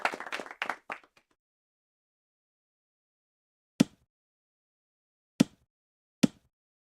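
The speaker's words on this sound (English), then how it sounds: "We keep hearing a huge drive and clapping noises." Brief burst of clapping heard faintly over a golf broadcast stream, followed by three sharp isolated claps or strikes spaced a second or more apart with silence between.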